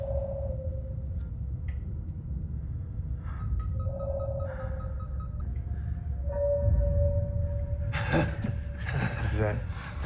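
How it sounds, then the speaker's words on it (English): A distress signal from a sci-fi TV episode sounds as repeated electronic beeps and tones over a low rumbling ambience, with scattered clicks and a burst of noise near the end. "I think that's the sound of a distress signal."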